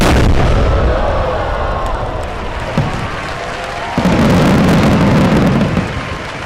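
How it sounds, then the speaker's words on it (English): The world's largest firework detonates in a single deafening blast, followed by a dense, roaring rumble of bursts and crackle that fills the air loudly for several seconds. "A year's work explodes with a deafening bang in the fraction of a second."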